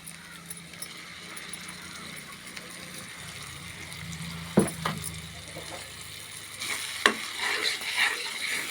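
A paste of ground chickpeas, sesame and coriander stirred and fried in a pan: a soft sizzle under a low hum, with occasional spoon knocks and scrapes growing busier toward the end.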